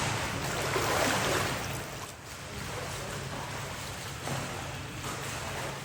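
Slow, relaxed freestyle swimming in cold open water, a steady wash of splashing and water noise with wind-like rush throughout, fairly close and continuous with no talking.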